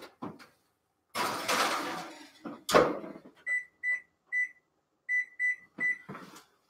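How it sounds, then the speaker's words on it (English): An oven door swings open with a rattle, a pan of brownies slides in and the door thumps shut, followed by a string of short electronic beeps as the controls are pressed, close and clear in a quiet kitchen. "I'm going to put this in the oven right now."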